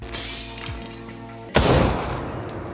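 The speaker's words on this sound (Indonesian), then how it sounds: "Lauren kemudian berhasil mengambil data agen yang hilang pada arloji dan menembak Percival" A single loud gunshot in an action spy film, a sharp burst near the middle followed by a ringing, decaying tail over faint background score.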